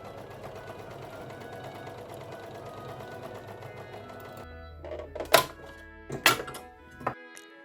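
An overlocker running steadily as it sews a rolled hem along a costume's side edge, a continuous close mechanical whir that stops, followed by a few sharp clunks and taps of handling.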